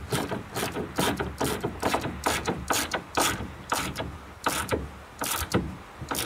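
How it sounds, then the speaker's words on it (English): A ratchet tightens a machine screw on a rowing boat's rigger, giving a steady run of close, crisp clicking bursts in repeated back-and-forth strokes, about two per second. "just using the ratchet to gently tighten that"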